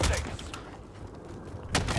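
Gunfire from the EX1 AR in Warzone, sharp close shots at the start and end with a muffled stretch between, and voices faintly present.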